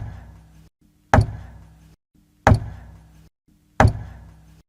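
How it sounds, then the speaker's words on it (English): Regular knocking from behind a cave-in wall, used as a story sound effect: three sharp, loud single knocks spaced evenly about 1.3 seconds apart, each followed by a brief decay, with a low hum between them. "Matt could hear a regular knocking."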